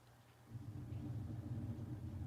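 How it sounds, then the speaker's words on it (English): Thunder rumbles low and steady at a distance, swelling after a quiet start and holding as a dull continuous roll. "There's thunder."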